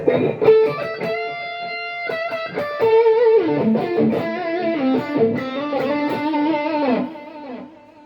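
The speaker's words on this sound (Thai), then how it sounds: "ตอนนี้รีเวิร์บได้แล้วครับนะ แต่ดีเลย์เบาไปนิดนึง" Electric guitar played through distortion with reverb and delay, ringing chords and melodic notes sustaining loudly and continuously for several seconds before fading out.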